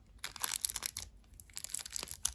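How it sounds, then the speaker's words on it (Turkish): Electrical tape wrapped tightly around a wire connection on a W1209 digital thermostat, a run of close crinkling, tearing and stretching crackles in two bursts. "şöyle çok sıkarak bantlayacağım"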